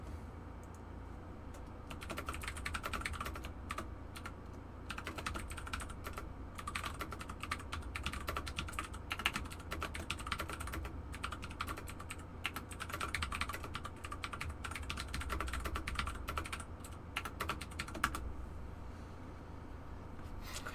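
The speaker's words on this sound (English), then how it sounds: "You like that keyboard ASMR?" Rapid, steady computer keyboard typing in a room over a low background rumble, with a continuous clatter of keystrokes lasting about twenty seconds and no speech.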